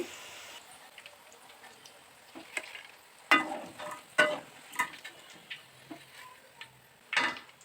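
Potatoes frying in oil, with soft sizzling and scattered clinks and scrapes as pieces are lifted from the pan, fairly quiet and without talk.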